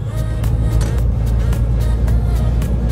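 A lorry overtakes a tractor on the road, heard from inside the cab as a loud steady engine drone with a rhythmic thumping pulse running throughout.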